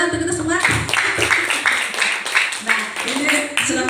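Audience clapping at a school event for SMP Negeri 2 Tanah Sepenggal, a dense burst of hand claps heard close and loud under a speaker talking over it.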